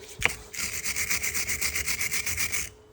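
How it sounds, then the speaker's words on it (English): Threads of a BMW E84 track rod end are scrubbed clean, giving a steady rhythmic rasping rub of about a dozen quick back-and-forth strokes after a short knock, close up with no talking. "So I'm just going to clean up these threads."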